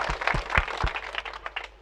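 Audience members applaud to welcome a GM at a panel event. The clapping is brief and moderately loud, with a few heavy low thumps early on, and it thins out toward the end.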